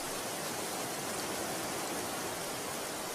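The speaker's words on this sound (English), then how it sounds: "The sound of running water triggers an obsessive desire to build." Steady broadband rush of running water draining from a beaver pond, a continuous hiss-like flow with no breaks, moderately loud and close.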